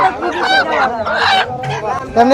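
Roosters cluck and crow close by amid busy people talking and chatter at a rural poultry market, voices overlapping the birds throughout.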